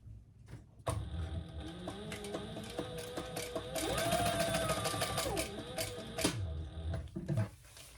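A sewing machine runs continuously, top stitching an opened seam on a crossbody bag strap, with a steady close mechanical whir and rapid needle clatter that swells slightly midway before stopping.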